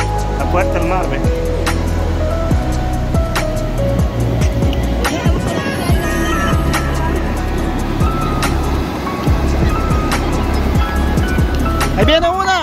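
Heavy sea waves surging and crashing close by, a constant rough roar with bursts of spray, while people talk over the noise.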